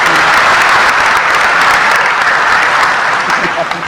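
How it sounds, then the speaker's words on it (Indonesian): Audience applause for a Gus, steady and loud, a dense crowd clapping throughout that thins slightly near the end. "Tepuk tangan untuk beliau, nggak apa-apa."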